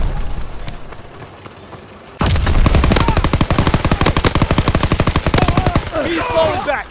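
Sustained automatic gunfire in Call of Duty WWII erupts suddenly after a quieter stretch, a loud rapid rhythmic stream of close shots continuing for several seconds amid battlefield noise.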